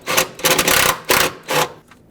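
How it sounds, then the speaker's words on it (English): A 10mm socket turning a rust-penetrant-treated mounting nut on the vapor canister purge valve of a Dodge Grand Caravan, a few short close rasping ratchet bursts with pauses between them. "Take a 10mm socket, slide it over here, and remove the mounting nut."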